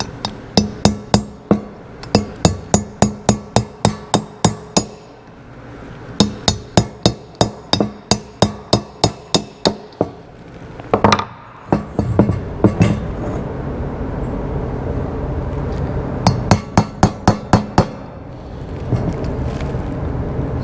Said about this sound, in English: Big chunk of steel still in there. Let's see if we can chip it out.